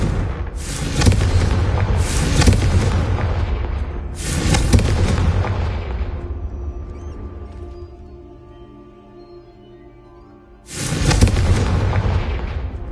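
Fantasy video game explosions from the Confringo blasting spell in Hogwarts Legacy: several loud booming blasts, each with a rumbling decay, then a quieter lull before another heavy burst near the end.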